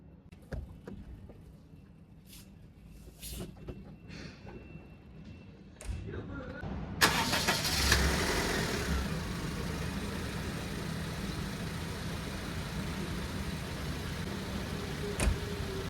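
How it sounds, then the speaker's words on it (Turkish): A car engine turns over and starts after a stretch of quiet low rumble, then settles into a steady, unrevved idle close by, heard alone during a DIY oil change test of an engine interior cleaner. "Motoru çalıştıralım şimdi."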